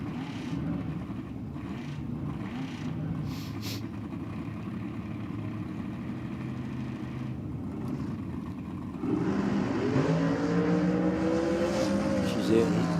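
A rear-engine dragster with a big block Chev 632 rumbles at a distance on a drag strip, growing louder and rising in pitch toward the end, under a voice talking throughout.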